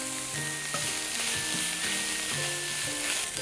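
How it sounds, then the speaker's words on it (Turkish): Minced meat with a little tomato paste frying and being stirred in a pan, giving a steady close sizzle throughout with no talking, over faint tonal background sounds. "Bir iki dakika daha kavuracağım."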